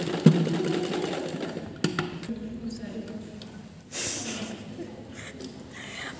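A sewing machine stitches a smocking frock, running in a soft, steady whir broken by a few sharp clicks and a brief louder hiss near the end, with faint voice sounds in the background.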